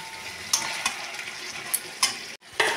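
Meat and potatoes stir-fried in oily spices in a pan: a constant sizzle broken by several sharp scrapes and clacks of a spatula against the metal, close by, with no talking.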